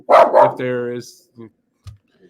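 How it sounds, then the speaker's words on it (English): A dog barks twice, sharply and close, followed by a longer whining, tonal bark and a few faint, brief yips fading away. "That's my dog barking to annoy us."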